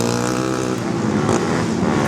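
Car roaring past during a festive night street race, a loud steady engine drone with harmonic revving that stays close throughout.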